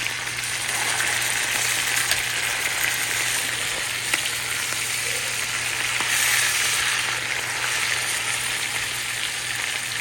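A steak frying with garlic in a hot pan, cooked well done, gives a loud, steady sizzle that continues unbroken throughout, with no talking.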